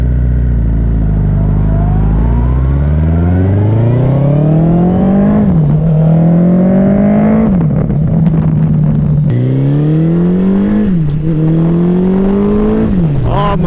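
Suzuki Hayabusa motorcycle fitted with a Leo Vince slip-on exhaust, loud and close, revving repeatedly in rising sweeps that climb, hold and drop back, with a deep raspy exhaust note throughout.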